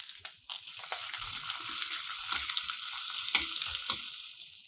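Onion fries in hot oil with dried red chillies and curry leaves for tomato rasam, giving a loud, steady crackling sizzle with small pops close up.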